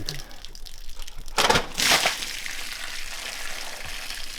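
A sudden gush of rushing water breaks in, then continues as a steady hissing flow nearby.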